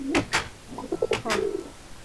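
Pigeons in the Minecraft video game give a few soft, low coos close by, mixed with brief sharper game sounds.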